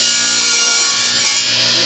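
Wood boards for a replacement sink base floor are being cut with a continuous, loud, close-up saw that holds a steady buzzing, rasping tone throughout without pause.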